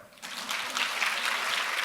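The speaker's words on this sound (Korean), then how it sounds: "한 번 더 박수를 받을 수 있을까요?" A conference audience at a marketing talk claps after a short quiet moment, and the fairly soft applause swells into a steady patter that continues to the end.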